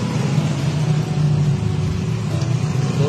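An engine starts up and runs noisily with a rough, steady low rumble and rapid uneven popping throughout, staying loud and close for the whole few seconds.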